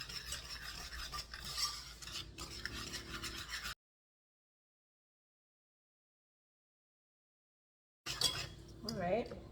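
A utensil scrapes and rubs in a bowl while sugar is mixed into lemon tart filling, with soft clinks. The sound stops abruptly into total silence for several seconds, then resumes.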